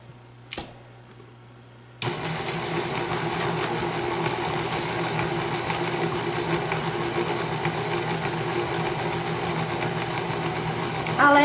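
An electric stand mixer creams carrot cake batter. After a brief click, the motor kicks in at about two seconds and then runs as a loud, steady whirring drone until the end, with no voices.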